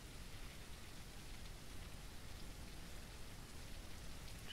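Steady rain falls in the horror video game Pilgrim, a dense, even hiss of drops that stays constant and fairly faint throughout, with no voices.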